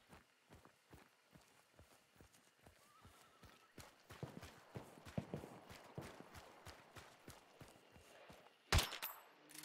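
Horse hooves clip-clopping in the western video game Cowboy Hat: Showdown, a steady run of close, regular hoof strikes over about ten seconds, quickening partway through, with a sharp crack near the end.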